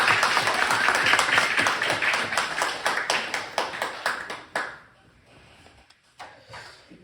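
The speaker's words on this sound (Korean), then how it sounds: "은혜로운 찬송 하나님께 영광의 박수를 드리겠습니다." A church congregation claps together during a worship service, dense and fairly close, with the applause stopping abruptly midway and leaving a few scattered claps and quiet room sound.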